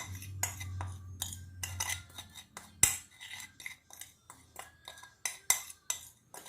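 Spices being stirred together in a bowl for baked chicken breast, a utensil clinking and scraping against the dish in quick repeated strokes with a few sharper knocks, close and fairly quiet.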